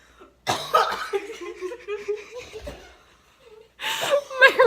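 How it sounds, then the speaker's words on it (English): A fit of rough, repeated coughing mixed with breathy laughter, close by, followed by a short pause and another burst of coughs. "my roommate's having a coughing attack."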